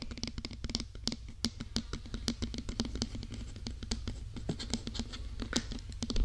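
Quick, crisp fingernail tapping and light scratching on a hard surface for ASMR, an irregular close-up patter of many small taps at low level, with no voice.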